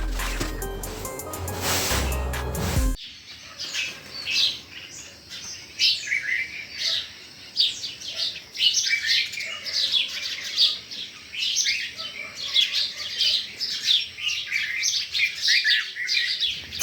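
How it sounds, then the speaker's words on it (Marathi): Birds chirp and tweet outdoors in a steady stream of overlapping calls, fairly close and lively, after a brief burst of other sound at the start. "आपल्या इकडं पक्ष्यांचा खूप आवाज येतो ना,"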